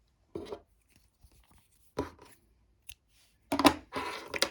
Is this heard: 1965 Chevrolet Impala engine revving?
no